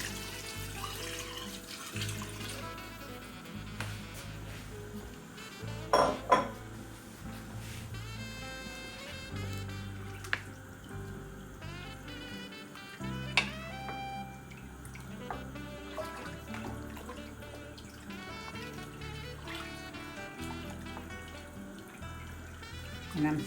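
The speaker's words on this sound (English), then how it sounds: "Now I'm going in with 6 cups of stock." Six cups of stock pour steadily into a pot of hot roux for a spicy andouille sausage and shrimp gumbo, a continuous splashing stream under a busy background with occasional louder clanks.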